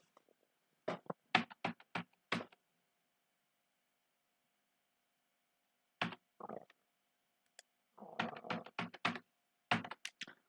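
Bursts of computer keyboard typing as a password is entered, clustered quick clicks near the mic, a pause, then a longer run of keystrokes and a final couple of taps.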